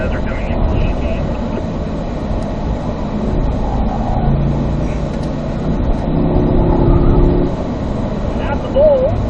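Race car at Spring Mountain North Course working up through the gears, its engine droning loudly and steadily with rising pitch changes on the throttle, while a driver talks over it throughout.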